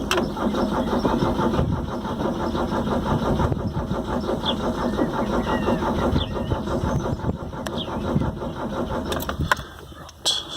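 A Dacia car engine is being cranked with the choke out, repeatedly turning over and sputtering without quite catching into a steady run. The rough mechanical rumble is loud and continuous, with short breaks near the end.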